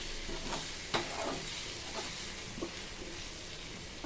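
Eggs and mixed vegetables frying in a pan for fried rice give a steady soft sizzle, with the occasional scrape and tap of a spoon stirring them close by.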